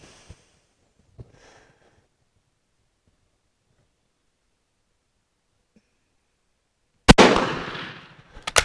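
An Italian Vetterli 1870/87 rifle fires during load testing: after several seconds of near silence and a couple of faint clicks, one sharp, loud report rings out with a decaying tail, followed by a smaller knock at the very end.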